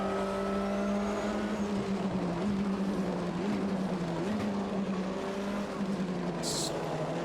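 V8 race car engine in the Automobilista 2 racing game at Daytona, a loud steady droning note with slight pitch wobbles as cars run close, with a faint tire squeal late on.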